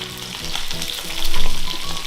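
Bite-sized Japanese karaage chicken in a soy-based marinade frying in a shallow amount of oil, giving a loud, close, continuous crackling sizzle that swells briefly midway.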